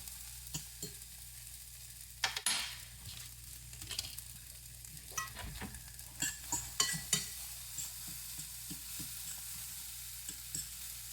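Tomato sautéing in a pan for huevos rancheros, giving a low steady sizzle with scattered sharp clicks and scrapes of stirring, fairly quiet and without talk.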